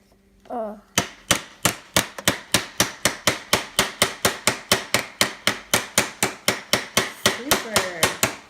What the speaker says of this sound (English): use your mallet to hammer it in